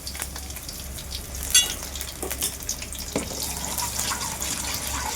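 Mustard seeds, cumin and chopped garlic frying in hot oil, a steady crackling sizzle with a few sharper pops and scraping stirs near the pan, no talking.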